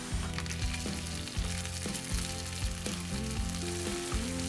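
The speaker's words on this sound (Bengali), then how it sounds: "খুব ভালো করে রসুনটা ভেজে নিতে হবে, যাতে কাঁচা গন্ধটা চলে যায়।" Garlic, then ginger paste, fries in hot oil for a Bengali aar fish curry with burnt garlic. A loud, continuous close-up sizzle runs throughout over a steady low tonal drone, with no speech.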